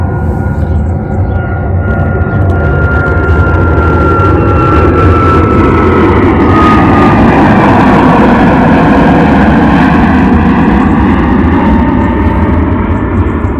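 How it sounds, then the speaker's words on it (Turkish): A steady, heavy engine roar of an aircraft passing overhead, loud and sustained, with a faint rising whine; no voices. "uçağımız geliyor"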